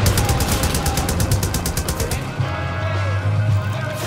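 Rapid automatic machine gun fire in the shooter game Far Cry New Dawn, a fast regular burst of shots for about two seconds, then quieter game ambience with a low hum.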